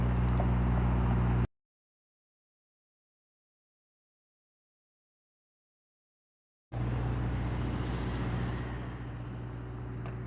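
A car passes on a city street in Los Angeles, a broad close roadway rush that cuts off abruptly, then returns after several seconds of silence and gradually fades.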